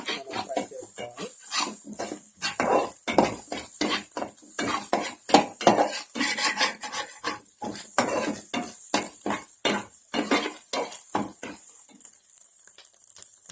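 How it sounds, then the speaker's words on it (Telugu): Finely chopped carrot and cabbage are stir-fried in a pan for egg fried rice. A spatula scrapes in a fast, steady rhythm over a faint sizzle, with no talk. "ఇప్పుడు ఇందులో చిన్నగా కట్ చేసుకున్న క్యారెట్ మరియు క్యాబేజీ వేసుకుని లైట్గా మనం ఫ్రై చేసుకోవాలి."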